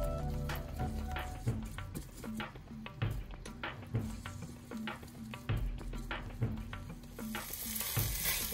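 Rice lightly roasting in a pan sizzles softly while a spoon stirs it in repeated scraping strokes at a fairly even rhythm, close and moderately quiet.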